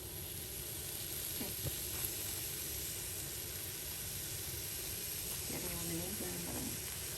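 Sliced shallots sizzling in oil in a pan for a Kerala clam fry, a steady faint hiss throughout, with a few soft clinks and a voice talking briefly.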